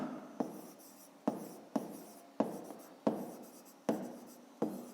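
A pen writes on paper while a 5th-grade maths exercise is worked, a series of soft, close scratching strokes in an irregular rhythm, each stroke starting with a faint tap, heard alone without talk.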